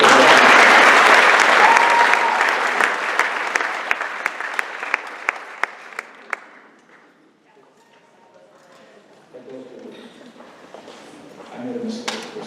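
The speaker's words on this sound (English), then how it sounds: "how about we give them a big round of applause" Loud audience applause at a graduation ceremony, a dense roar of clapping that thins into scattered claps and fades to near silence, then talking resumes softly.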